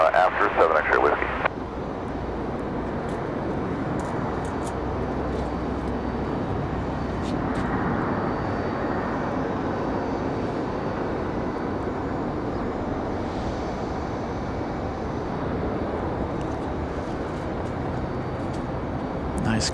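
A Breeze Airways airliner arriving at Raleigh-Durham airport, heard as a steady, fairly quiet broadband jet rumble that holds at an even level throughout, with a brief louder burst at the very start and a voice talking over it.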